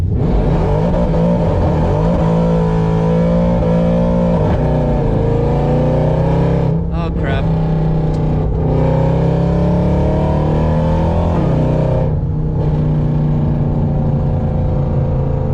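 A Mercedes C63 AMG Black Series with a carbon fiber drive shaft accelerates hard, its engine droning loud and close for the whole stretch, with pitch rising and dropping through gear changes and a brief exclamation from the driver.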